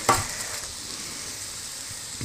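Paneer tikka with tomatoes and capsicum on a hot sizzler plate, a steady soft hiss of sizzling after a brief sharp spit at the start, close and continuous with no voices.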